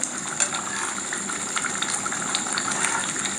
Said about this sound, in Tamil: இந்த செகண்ட் தேங்காய் பால் மட்டும் நான் ஊற்றி ஆட் பண்ணிக்கிறேன்.